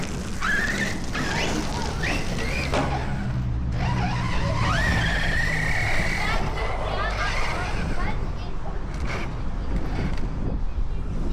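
A Team Magic radio-controlled car with an 8S setup, 1100kv motor and 17-tooth pinion whines and revs as it drives and crawls over rough ground, its motor pitch rising and falling, with people talking over it nearby.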